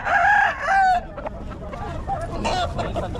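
A brood cock crows loudly and close by at a busy market day. Two strong crow bursts come in the first second, followed by scattered clucks and faint crowd chatter.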